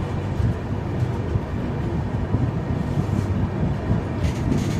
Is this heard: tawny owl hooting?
no